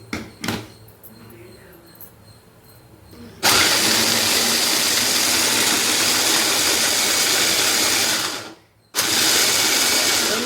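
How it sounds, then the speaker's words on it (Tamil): A mixer grinder grinding onions for prawn gravy roars loudly and steadily for about five seconds, cuts out briefly, then starts again at full power; a quieter mechanical rattle precedes the first run. "வெங்காயத்தை இந்த மிஷின்லேயே போட்டு அரைச்சிக்கலாம் ஃப்ரெண்ட்ஸ்"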